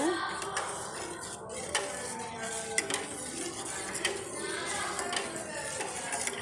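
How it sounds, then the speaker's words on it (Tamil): Stirring ragi flour porridge in a pot: a spoon scrapes and taps against the pot in an irregular rhythm, with close clinks and a soft background hiss, no talk. "நல்லா கலக்கிட்டே இருக்கணும் கட்டி வந்துடக்கூடாது"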